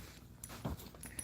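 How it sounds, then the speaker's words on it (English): Excited dogs whimper and whine in short, brief bursts in a home, with a louder yelp near the middle, heard close up against low background noise. "My dogs are losing it."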